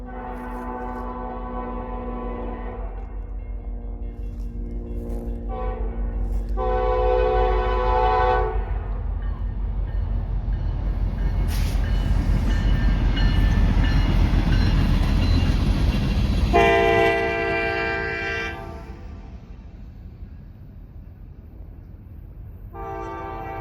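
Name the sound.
freight train passing with horn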